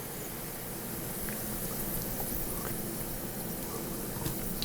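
Steady dense sizzling and crackling of sweet potato fries in a Ninja Foodi, a continuous hiss with faint pops, fairly close and unbroken throughout.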